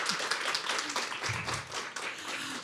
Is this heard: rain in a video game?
no